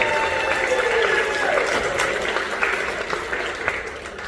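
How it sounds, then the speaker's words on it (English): Audience applause fills a theatre at an older persons' talent and fashion show in Cayman, a steady wash of clapping with a few tonal whistles or cheers over it. "Keep the applause going for Mr."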